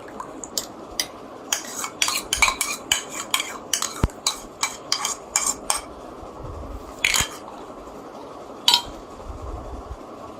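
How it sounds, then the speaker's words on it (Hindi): A spoon clinks and scrapes against a bowl in quick, irregular bursts while spices are mixed, then pauses before a couple of final clinks. "अब इन सब मसालों को मिक्स करने लगे हैं।"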